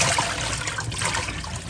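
Soaking water from fish being prepared for brown stew is tossed out, a brief loud gushing splash that runs steadily with no break, heard close and alone.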